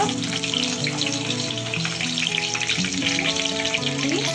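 Moringa drumstick pods frying in oil with golden roasted garlic, giving a loud, steady, close sizzle with constant crackle and no pauses or voices.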